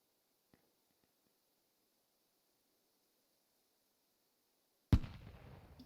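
A grenade in a multiplayer video game bursts with one sudden sharp blast near the end after near silence, its noisy tail fading over the last second.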